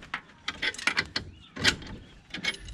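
A ball joint press tool being turned to press a ball joint into a 1994-2004 Ford Mustang, giving a series of close metallic clicks and ratcheting creaks in uneven bursts.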